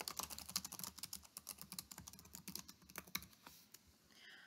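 Keys clattering in quick, irregular bursts as a student types an answer into a text slide, close and clear, with no voices, trailing into a faint hiss at the end.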